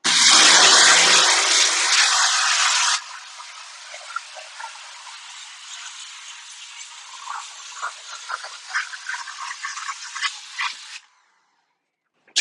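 Water spraying onto a screen printing screen during washing, a loud hissing rush for the first few seconds, then a quieter trickle with scattered drips and splashes until it stops.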